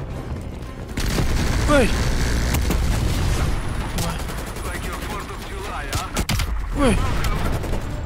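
Heavy automatic gunfire and booming shots fill a firefight in Call of Duty: Black Ops Cold War, with sustained bursts and impacts under someone talking and exclaiming.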